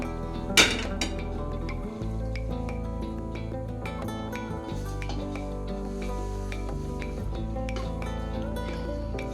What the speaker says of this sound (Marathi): आता मी इथे तवा गरम होण्यासाठी ठेवते.